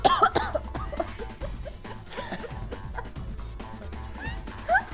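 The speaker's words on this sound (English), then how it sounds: "I just coughed up" Several sharp coughs close to the microphone, scattered irregularly with quieter breathy sounds and faint rustling between them.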